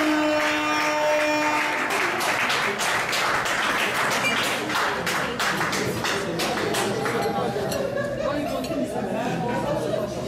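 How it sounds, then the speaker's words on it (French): Wedding guests break into a burst of rapid, scattered clapping that continues to the end, mixed with loud overlapping chatter and voices from the crowd. "Et on peut applaudir s'il vous plaît."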